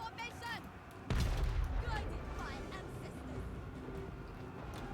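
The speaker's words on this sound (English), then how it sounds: "just be careful that my cannons don't hit you" Cannon fire booms in a Total War Warhammer Immortal Empires battle, one sharp heavy blast followed by a rumbling tail over a busy backdrop of clashing, crackling battle noise, with a voice chatting faintly underneath.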